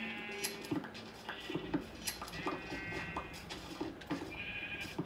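Sheep in a blocky video game bleat several times, with short nasal calls scattered over a busy, continuous game soundscape.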